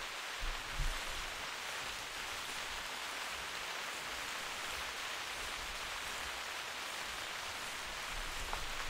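Steady rain falls throughout the hunting game theHunter, a dense, even hiss of drops with no break, fairly quiet and alone, with a faint low thump near the start.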